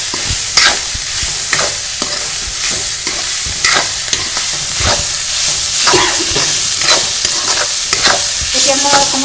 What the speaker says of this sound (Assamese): ইয়াত মই 1 চামুচ বাটাৰ দিছোঁ